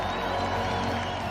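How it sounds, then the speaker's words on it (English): A large crowd cheers outside the church as the royal couple kiss at their wedding, a steady, loud wash of distant cheering, whoops and applause. "The crowd went absolutely wild."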